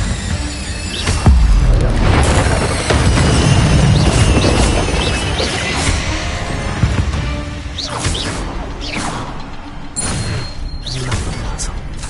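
An Incendio fire spell cast in the video game Hogwarts Legacy, with loud whooshing bursts and booming impacts over a dense, continuous bed of game effects.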